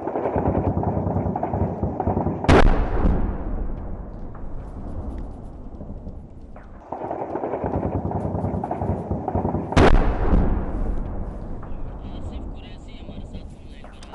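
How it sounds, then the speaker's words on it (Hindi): Pakistani artillery shelling and gunfire across the border in Kupwara: two heavy blasts several seconds apart, each a sharp crack trailing into long rolling rumble, over a constant low roar of sustained fire, with a voice talking over it. "आपको आवाज़ सुनवाते हैं इन तस्वीरों में किस तरह से पाकिस्तान सीज फायर का उल्लंघन करके गोले दाग रहा है।"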